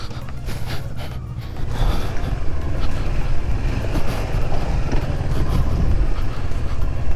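A motorbike riding off-road on a rough mountain route between Chandratal and Manali in Spiti Valley, a steady low engine rumble with wind and rattling that grows louder after a quieter start, continuous with no talking.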